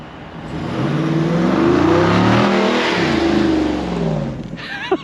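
A Jeep Wrangler 392 V8 revving hard during a launch run-up, the engine note climbing to a loud sustained roar, then falling away, close and alone.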